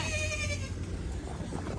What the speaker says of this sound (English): Little goat. Mama, see, she's a good Yeah, mama. mama's wanting the babies back.